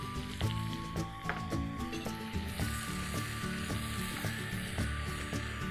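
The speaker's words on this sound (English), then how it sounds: "Now stir everything together." Eggplant, potato and pepper stir-fried with soy sauce and white pepper over a high flame, giving a steady loud sizzle with rhythmic scraping and squishing of the stirred vegetables throughout.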